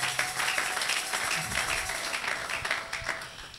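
Congregation clapping in a church service, a dense sustained wash of many hands applauding at moderate distance, with faint voices mixed in.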